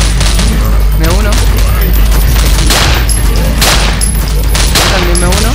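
Loud, nonstop bursts of rapid gunfire mixed with heavy booms in a battle in the video game Nightmare House 2, with faint voices buried under the shooting.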